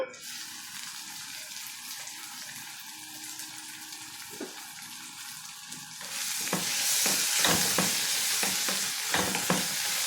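Tomato pieces cooking with onions in a pan for an egg keema curry, a low simmering hiss that swells into louder sizzling and stirring clatter in the latter half.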